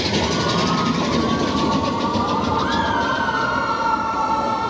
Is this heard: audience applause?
no